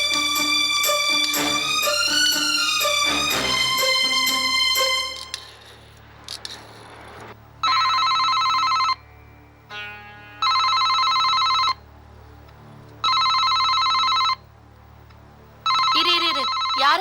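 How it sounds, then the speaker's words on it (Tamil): A telephone rings in a home setting in a Tamil TV serial: bursts of a loud electronic ring, about two seconds each with short gaps between, following a swell of dramatic background music. "ஆனந்தா போன் பண்ணிருப்பான்."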